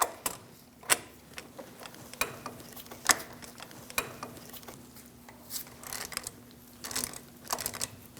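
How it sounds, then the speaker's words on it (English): A torque wrench tightens the outer tie rod nut on a 2000-2006 Mini Cooper, giving sharp, irregular metallic clicks and ratcheting ticks close by with no talk. "now we're going to torque it to 38 foot-pounds"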